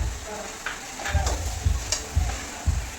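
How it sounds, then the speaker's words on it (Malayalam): Dried coconut pieces hit sautéed onions frying in a pan, giving a steady close sizzle broken by several distinct scrapes and clinks of stirring. "സവാള വഴണ്ട് വന്നിട്ടുണ്ട്. അപ്പോൾ അതിലോട്ട് നമ്മൾ തേങ്ങാക്കൊത്താണ് ഇടുന്നത്."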